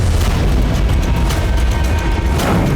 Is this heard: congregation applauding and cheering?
no